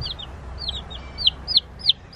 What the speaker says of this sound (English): Ini namanya Americana. Americana chicken.